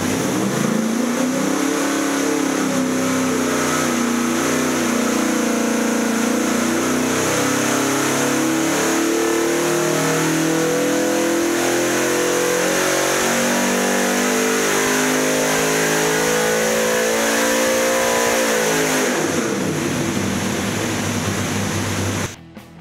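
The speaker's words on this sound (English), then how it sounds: "we quickly set the polished and purple anodized carb on our engine and throttle down." A carbureted race engine with a Brawler Race 750 carburetor revs hard on a dyno, climbing steadily in pitch for a long sustained pull, then dropping off sharply near the end.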